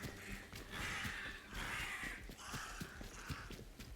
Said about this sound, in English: Go away, crows!